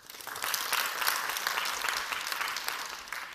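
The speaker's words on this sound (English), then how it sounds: "please clap your hands for me." An audience at a talk on essential oils breaks into applause, swelling quickly after a quiet start into a dense, sustained wash of many hands clapping.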